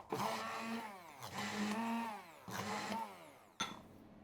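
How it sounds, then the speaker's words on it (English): A kitchen blender mashes cooked potatoes for sourdough potato buns, its motor whining loudly in several bursts that rise and fall in pitch as the load shifts, with short pauses between pulses and no talk. "I don't have potato ricer, so I use my blender to smash them up."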